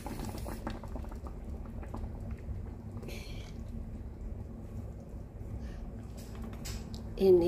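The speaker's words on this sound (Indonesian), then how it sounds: "Ini ya, aku tunggu sampai mendidih." Water for fish soup bubbles steadily at a low simmer in a pot, a soft continuous burbling close by, with a few light clinks and a brief rise in noise near the end.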